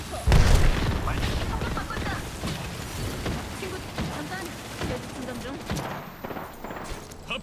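A grenade blast in Apex Legends, a loud close boom near the start followed by ongoing gunfire and combat noise, with players talking over the action.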